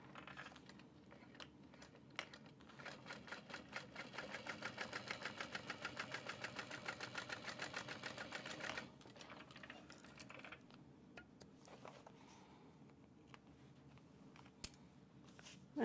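A sewing machine top stitches a fabric train case, a fast, even mechanical whir with quick needle ticks that runs for several seconds, then stops and gives way to quiet handling noises, faint and close.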